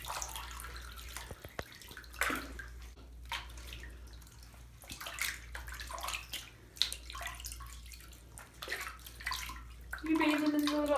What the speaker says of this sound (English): And then we get some warm water to flow, which Lilo's not happy about.